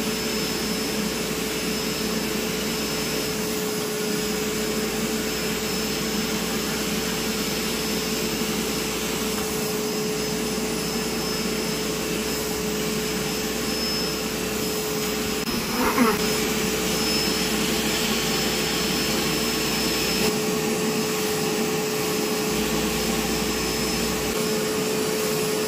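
A Bissell Bark Bath pet washing machine runs on a husky with a loud, continuous vacuum-like drone, steady and close, with a brief bump in the middle.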